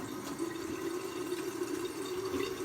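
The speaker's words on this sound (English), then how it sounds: "Rinse my face off with light warm water." Warm water running and splashing at a bathroom sink while a face is rinsed after a wet shave, a soft continuous trickle with faint splashes, quiet and close.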